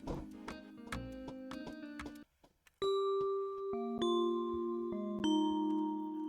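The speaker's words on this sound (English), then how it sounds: "It's from Expand, and it's bells" Bright bell tones from a sampled bells instrument in FL Studio's Expand plugin ring out in a melodic pattern, with struck notes layering and decaying over a short gap, loud and alone with no talking.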